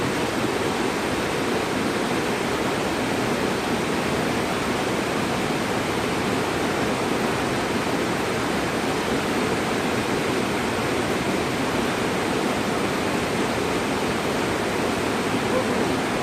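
Rainforest creek at a bush-walk crossing on the Binna Burra Coomera circuit, rushing steadily over rocks; a close, loud, unbroken broadband wash of water with no pauses or other sounds.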